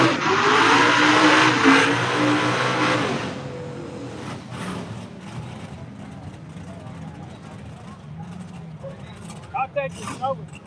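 A 1986 Mustang drag racing down the precision turbo lane at a no-prep outlaw event: a loud engine roar launches and fades into the distance, with an announcer talking over it.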